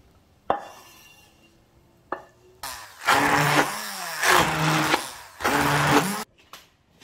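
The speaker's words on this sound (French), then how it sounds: "Et maintenant je vais verser les légumes dedans," Vegetables tipped into a pot for kimchi soup, with sharp clatters of metal and utensils against the pot, followed by several bursts of rattling, tumbling noise and a low whirring hum, all fairly close with no talking.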